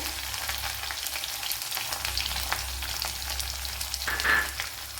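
Ginger, garlic and green chilli fry in coconut oil with mustard seeds for an Onam dish. A low, even sizzle hisses close by, with light scrapes from stirring and a brief, brighter flare of spitting near the end.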